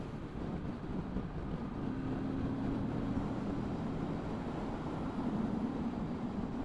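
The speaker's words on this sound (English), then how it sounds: "that's in sixth gear, so I'd say it's a good torquey little engine" A small twin-cylinder motorbike engine pulls steadily in sixth gear along a faster stretch of road, a low continuous drone that is blurred by heavy wind rush, with no voices over it.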